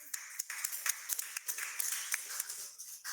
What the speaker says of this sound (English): you're also clapping for yourself